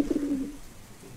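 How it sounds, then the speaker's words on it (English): Pigeons in a virtual reality Noah's Ark scene give a short, low cooing call near the start, then a quiet pause. "watch out. There are some pigeons."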